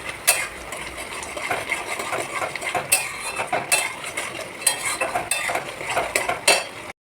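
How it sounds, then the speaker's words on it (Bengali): Spice paste with cumin powder and Kashmiri chili powder is stir-fried in a kadai, with repeated scraping and clinking of a metal spatula against the pan in an uneven rhythm, close and fairly clear. "জিরার গুঁড়ো দিয়েছি, দিয়ে মশলাটাকে ভালোভাবে কষিয়ে নিচ্ছি।"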